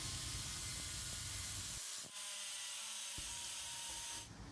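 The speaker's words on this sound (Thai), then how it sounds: "ใช้หินเจียมาเจียแต่งเป็นเคี้ยวล็อกนะครับ" A grinding stone shapes a motorcycle-spoke wire bender for making fishing lures, giving a harsh, steady hiss that drops out briefly twice before resuming, close and continuous.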